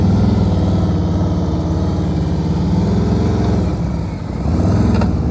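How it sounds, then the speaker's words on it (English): Motorcycle ridden slowly through gates in a slow-speed practice session, its engine loud and close with a steady low chug and slight throttle changes, no talk. "He's fighting that motorcycle."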